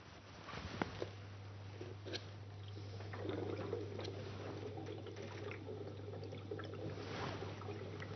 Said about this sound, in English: place it so as to collect gas by displacing the water in the cylinder